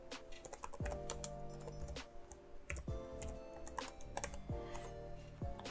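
Quick, light keystrokes on a computer keyboard as a Linux command is entered, a close, irregular run of clicks with a few heavier thumps like the space or enter key, no voices.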